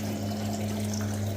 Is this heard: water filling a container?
yes